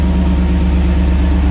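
A turbocharged 460 EFI V8 in an S480 idles smoothly and steadily, a loud, close, even low rumble with a regular pulsing beat and no revving.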